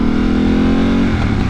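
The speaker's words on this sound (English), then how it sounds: "And just how loud the exhaust is." A Ducati Panigale V2 motorcycle with no catalytic converter revs loud and close, its exhaust holding a steady throaty drone before easing slightly near the end.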